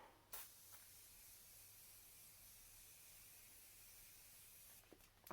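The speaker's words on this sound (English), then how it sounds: "I'm going to spray myself with a bit of that." Short bursts of setting spray from a pump mist bottle, starting with a sharp puff and ending with another quick spritz, with a faint steady hiss between them in a quiet room.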